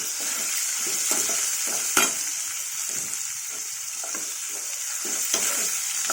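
Amla and tamarind fry in a pan for a Telugu amla-coconut chutney, a loud continuous sizzle broken by repeated scraping strokes of a spoon stirring, with no talking.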